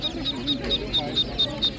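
Chicks peep in a rapid, evenly spaced series of high cheeps at a Saturday village animal market where ducks are also sold, close and clear over a low murmur of background activity.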